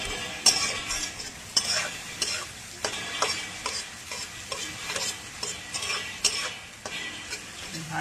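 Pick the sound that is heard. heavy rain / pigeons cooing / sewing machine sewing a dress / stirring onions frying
stirring onions frying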